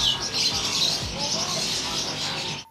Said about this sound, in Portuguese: Agora dá para ouvir muitos pássaros.